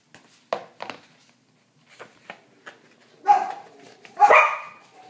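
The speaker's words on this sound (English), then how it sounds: "What are Stella and Chester barking at" Two dogs barking in short bursts, a few sharp separate barks early on followed by louder, fuller barking toward the end, fairly close and with no talk over it.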